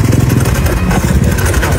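A Suzuki motorcycle engine with a faulty carburetor runs loud and close, throbbing with a rough, uneven pulse that wavers rather than settling into a steady idle.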